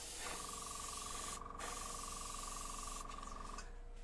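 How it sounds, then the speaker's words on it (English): An airbrush hisses steadily as it sprays paint onto a woodturned piece, a close continuous spray with a brief break in the middle and a faint whine under the hiss, no talking. "I'm doing exactly the same thing by spraying onto it first and moving around"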